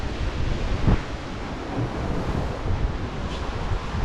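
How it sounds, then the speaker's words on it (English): Strong wind buffets the helm station of an Excess 11 sailing catamaran in 30-knot conditions, a loud continuous roar with gusty rumbling, mixed with rushing sea noise and no talk. "Even if I go at the helm station, you do get a lot of wind, but you don't get wet."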